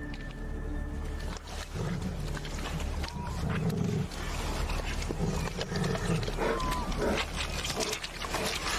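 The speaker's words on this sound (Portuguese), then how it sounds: "Os ursos cinzentos costumam ser solitários." Grizzly bears growl and roar over a humpback whale carcass stranded on a wild North American coastline, deep rumbling snarls running loud and close throughout with brief surges and overlapping growls.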